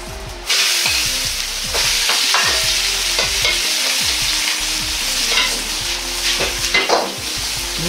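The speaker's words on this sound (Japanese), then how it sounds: "キャベツを軽く炒めます。" Cabbage sizzles and crackles loudly in a hot pot with a little oil, with repeated scraping and tossing as it's stirred.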